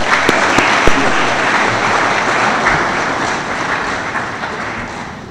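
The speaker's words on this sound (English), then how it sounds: "Shall we please clap for them?" An audience at an inaugural academic lecture applauds the event's sponsors in a full, continuous round of clapping that holds strong, then gradually tapers off.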